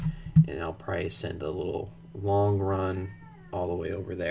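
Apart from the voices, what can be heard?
cat meowing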